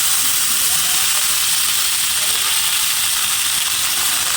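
Helencha greens with green chillies hitting hot oil alongside fried fish, giving a steady, close frying sizzle and hiss that runs unbroken from start to finish.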